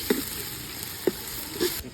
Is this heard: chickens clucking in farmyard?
no